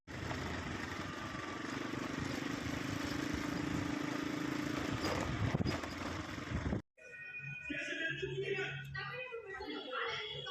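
Small scooter ridden along a road, a continuous buzzing engine and wind noise for several seconds, then a sudden cut to quieter surroundings with voices.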